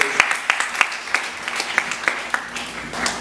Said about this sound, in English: we give the Lord a clap.